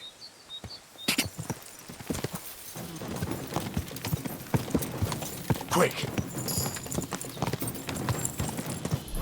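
Rapid, steady hoofbeats of a galloping horse in the video game Kingdom Come: Deliverance II clatter throughout, close and busy, with a brief spoken word near the start.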